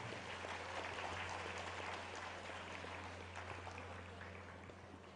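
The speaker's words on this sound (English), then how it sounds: "I request the huge round of applause for the rank holders" A graduation-day audience gives a round of applause for the rank holders: steady, dense clapping from a large crowd, heard at some distance and fairly faint, with no talk over it.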